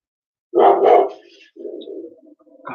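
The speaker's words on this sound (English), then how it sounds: "God's sake, silly dog." A dog lets out two loud, close barks in quick succession, followed by a softer, lower muffled woof or grumble trailing off.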